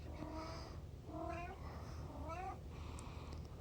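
A pet cat meows three times in drawn-out, rising and falling calls, close and clear, against a low steady background hum.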